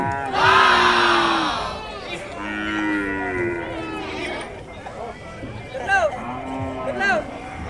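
Several cattle mooing at a livestock stockyard, loud drawn-out calls from near animals overlapping one another, with background commotion and voices.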